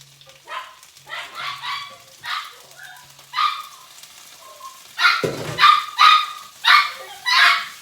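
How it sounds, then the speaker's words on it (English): A small dog barks excitedly in quick, high-pitched bursts, alternating with yips, close by with little else around. "This is the excited puppy."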